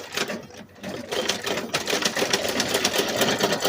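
A sewing machine stitches with a rapid, clattering mechanical rhythm, running steadily and close for a few seconds.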